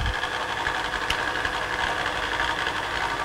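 Vacuum wobbling rig used for making precision ground flatstones, running with a steady close mechanical hum and buzz, a single faint knock partway through, no talk.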